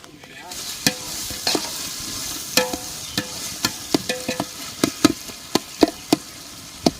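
Tomatoes sautéing in ghee for biryani, a steady close sizzle broken by frequent sharp clicks and scrapes of a spoon stirring against the pot, with no voices.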